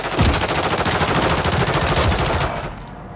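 Sustained rapid automatic gunfire in the video game Call of Duty: Warzone, a loud dense burst of shots lasting about two and a half seconds before cutting off sharply.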